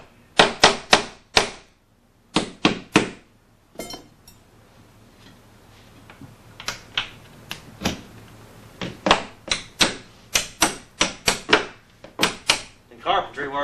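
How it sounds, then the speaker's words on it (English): Door hinges being knocked into place on a door during carpentry replacement work: sharp, loud knocks come in quick clusters of three to five, separated by short pauses and low background noise. "you have to knock them around a little bit to get them in anyway"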